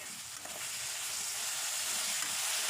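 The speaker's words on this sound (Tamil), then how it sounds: "தக்காளியும் நல்லா வதக்கிடுங்க. நல்லா மசிகிற அளவு நல்லா வதக்கிடுங்க." Tomatoes sauté in a pan for chicken kulambu, giving a steady, dense sizzle that runs the whole time with faint stirring scrapes underneath and no voices.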